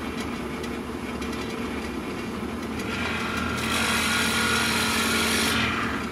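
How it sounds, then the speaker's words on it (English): A drill press with a 3/4 inch Forstner bit bores a pocket into the wooden keel of a carved pintail drake duck decoy, a steady whirring hum that grows a little louder and hissier midway, with no talking. "I've set my stop on the drill press so that I don't go through the bottom of the keel"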